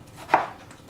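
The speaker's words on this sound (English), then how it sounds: "Cut it in half. And then just do this." A kitchen knife slices through a tomato on a cutting board while making beef stew, producing a single crisp chop close by.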